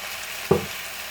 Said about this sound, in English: So we're going to add our pumpkin pulp, the zero food waste,